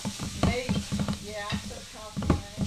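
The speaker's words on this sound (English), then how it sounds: "Mama's frying like a fry cook over here." Hamburger meat sizzling in a frying pan for a cowboy casserole, with a steady crackling fry and repeated scraping stirs in a home kitchen, under intermittent nearby talk.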